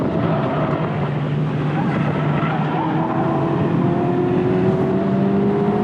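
A 2023 Honda Civic Type R FL5, a front-wheel-drive car, laps a race track with a steady engine drone whose pitch slowly climbs as it pulls through a gear, heard over constant wind buffeting.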